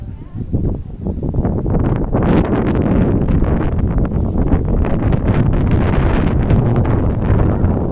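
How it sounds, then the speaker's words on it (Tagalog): Steady wind roars and buffets the microphone throughout on Mount Samat, loud and continuous, with a low rumbling undertone like an open boat deck. "Ang sarap ng hangin, grabe."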